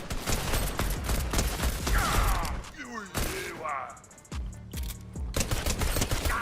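Rapid gunfire bursts from a heavy assault rifle in Fortnite, clattering shots in quick runs with explosive impacts and game effects, while players talk over the action.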